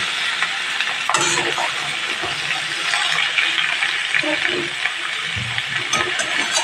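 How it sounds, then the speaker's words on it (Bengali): Raw pumpkin and mixed vegetables with spices are stirred and fried in a pan, giving a steady broadband sizzle for the whole stretch with occasional louder stirring scrapes near the start and end. "1 মিনিট বা 2 মিনিট করে এইভাবে সবজিগুলো নাড়াচাড়া করে ভেজে নিতে হবে।"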